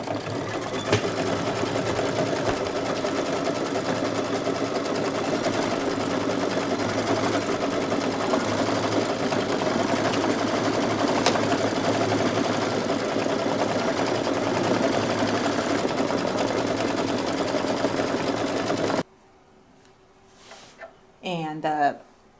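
An embroidery machine stitches the placement line for a tree on a Halloween owl placemat block, a steady, loud mechanical hum lasting about nineteen seconds before it stops and a person starts speaking.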